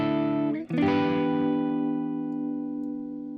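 Sustained electric guitar notes shaped by a chorus pedal, with a shimmering, wavering effect, a brief pick attack midway, then a long ringing decay.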